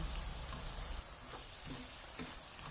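Pork and asparagus fry in hot oil with a constant close hiss and crackle, a soft steady sizzle occasionally dotted by small pops, no voices over it.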